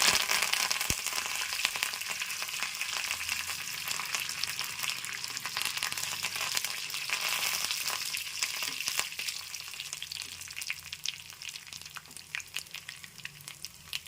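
Curry leaves sizzling and frying in hot oil in a pan for a vakkaya chutney, a steady crackling hiss with occasional stirring scrapes, fading slightly toward the end.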